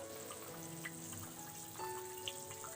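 Ground coconut mix poured into a boiling pot, a soft, quiet trickle and liquid spatter over a low bubbling simmer, with no talking.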